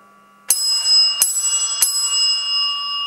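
Three crisp strikes of a church bell rung before mass, evenly spaced, loud and close, their ringing tones blending and lingering as they decay.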